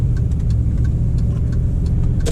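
A 2004 Audi Allroad with the 4.2 V8 drones steadily while driving, a loud continuous low engine rumble heard from inside the cabin, with faint clicks and a brief noise at the end.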